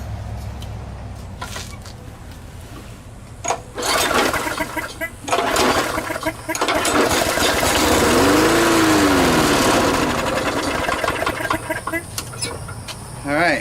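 A Murray push mower's small engine cranks, catches and runs roughly, rising to a loud steady drone with uneven surges and speech-like sounds in the mix, after some quieter handling noise.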